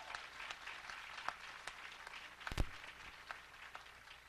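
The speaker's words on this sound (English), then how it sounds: "I'd like to have another round of applause for Dr. Doris Rux." An audience applauds an honoree, Dr. Doris Rux, at an education awards event, the clapping fairly quiet and distant, sustained with a few sharper claps standing out.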